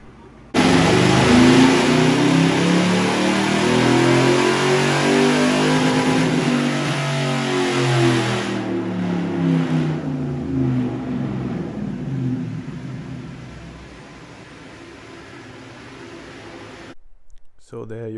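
A 1UZFE V8 in a 1971 Dodge Dart restomod revs hard on a dyno, a loud sweeping engine roar that climbs and falls in pitch several times before fading toward a quieter run and cutting off.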